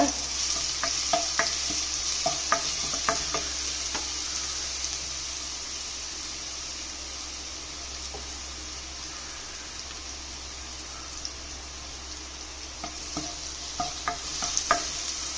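Crushed onion fries in a pan while cooking okra thoran. A steady hissing sizzle runs throughout, with sharp spoon-against-pan taps in short bursts at the start and near the end.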